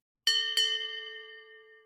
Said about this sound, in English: Did you hear a ship bell?